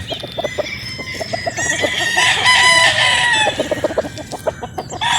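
A Sweater Boston gamefowl rooster on a game farm in Batangas crows loudly and close in one drawn-out call amid steady clucking from other fowl.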